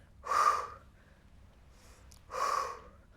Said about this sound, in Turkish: Nefes al ve ver.